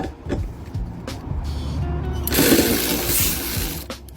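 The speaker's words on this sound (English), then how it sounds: "That's the pressure coming out." A pressurized AC line on a Chrysler Town & Country, opened during condenser and radiator replacement, lets out a loud, sustained rushing hiss of escaping pressure that lasts nearly two seconds after some brief clicks and handling noises.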